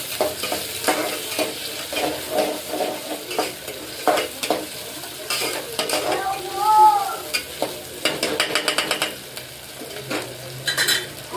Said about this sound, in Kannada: ಟಮಾಟಿ ಹಾಕೊಂಡ್ಕೇಳಿ ಇದಕ್ಕೆ ಒಂದು ಸ್ವಲ್ಪ ಎಣ್ಣೆ ಫ್ರೈ ಮಾಡ್ಕೊತೀನಿ ಚಂದಾಗಿ